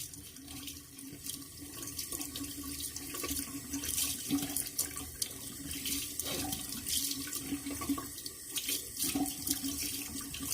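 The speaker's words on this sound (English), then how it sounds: "I'm going to rinse out the Rich Man brush." Tap water runs steadily into a sink while a shaving brush is rinsed under it, a continuous close splashing wash with small shifts as the brush moves through the stream.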